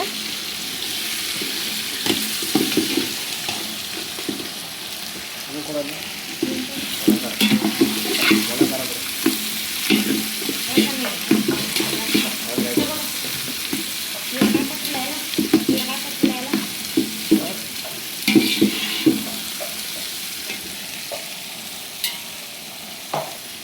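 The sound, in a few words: onions frying in oil for potato palya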